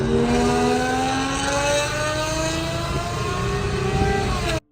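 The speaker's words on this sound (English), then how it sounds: "I don't think I've heard a Zonda go full tilt in a very long time" A Pagani Zonda engine revs at full throttle, loud and close, with a steady climbing howl that holds for several seconds before cutting off abruptly.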